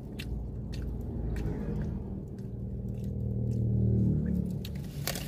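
Someone bites into and chews an Ilocos empanada, a crisp fried pastry splashed with vinegar, at close range, with soft, steady moist crunching and squishing and no talk.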